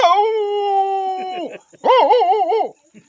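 A man vocally imitates a dog, giving two drawn-out, whining howl-like calls, the first steady and the second wavering, close and fairly loud with a short pause between them.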